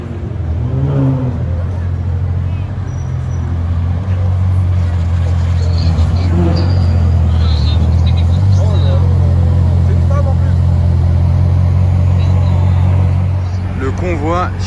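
A convoy of supercars including a Bugatti Chiron, a Bentley and Lamborghinis rolls past, low engine drones and revs rising and falling continuously, loud and close, with people talking over the traffic.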